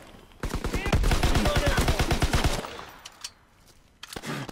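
A suppressed submachine gun fires a rapid, fairly slow-cadence burst in Call of Duty WW2, about a dozen and a half evenly spaced muffled shots over two seconds, followed by a few scattered clicks and shots.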